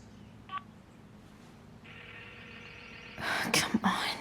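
A phone dialing in the video game Life is Strange: Before the Storm: a single short tone, then a steady ringing tone, followed by louder rustling bursts near the end.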